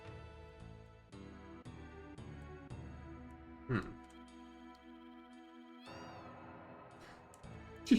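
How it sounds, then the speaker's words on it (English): Cat meows and trills heard over steady background music in a game setting, several short calls rising and falling, fairly faint and mixed under the music. "Did you hear that cat?"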